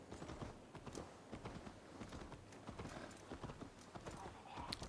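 Quick, continuous clip-clop of horse hooves in Assassin's Creed Valhalla, fairly close, with a steady trotting rhythm and faint background noise.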